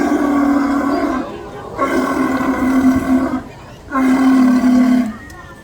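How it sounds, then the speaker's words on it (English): A California sea lion at a zoo show gives three long, loud, close honking roars with a strong tonal buzz, separated by brief pauses. "He's a Californian sea lion though."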